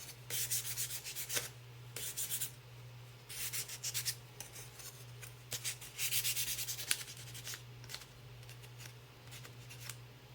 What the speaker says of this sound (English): I am going to like try and sand off like the edges